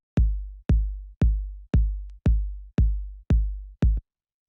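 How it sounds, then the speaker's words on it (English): A punchy 808-style kick drum in electronic music sounds eight times alone at an even, steady pace, each hit a deep booming thump with a short click and a sustained low tail. "it's just kind of like a punchy, sort of like 808 style kick"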